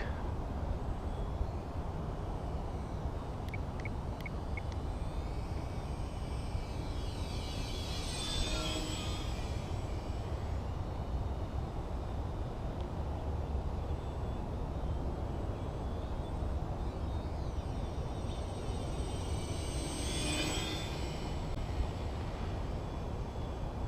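A small foam RC trainer airplane fitted with added ailerons, an extra servo and push rods, drones steadily overhead with a continuous motor whine, swelling louder as it passes close around 8–9 and 20–21 seconds.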